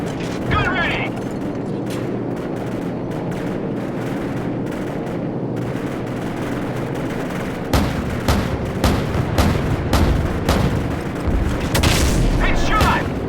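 Heavy cannon fire from an AC-130 gunship in the Call of Duty 4: Modern Warfare video game, repeated loud booming shots over a constant engine drone, with voices talking over the radio throughout.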